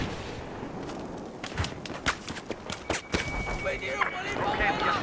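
Gunfire in Battlefield 4 rings out in a run of sharp, rapid shots and bursts mixed with game clatter, moderately loud and fairly close.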